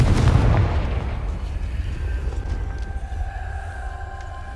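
The Confringo explosive spell in the Hogwarts Legacy video game goes off as a loud, deep blast at the very start, then fades into a long, low rumbling decay with faint ambient tones behind it.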